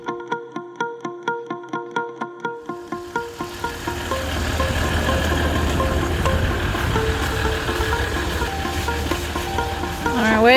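A car engine runs steadily while driving, a continuous low rumble with road noise holding for most of the stretch after a rhythmic ticking at the start.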